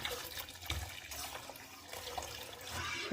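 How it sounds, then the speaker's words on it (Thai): Coconut water and agar powder mixture being poured into a pot for a Thai coconut jelly dessert, a trickling, splashing liquid stream with soft bumps of the pot, fairly close and moderately quiet. "ก่อนที่เราจะเทส่วนผสมของ ตัวผงวุ้นแล้วก็น้ำมะพร้าวนะคะ เราต้องคนก่อนนะคะ แล้วก็เทลงไปเลยค่ะ"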